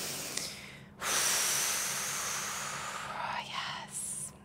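Slow yoga breath during a morning flow: one long, steady breathy exhale close to the mic, soft and hissy, framed by quieter intakes at the start and end, with no talking.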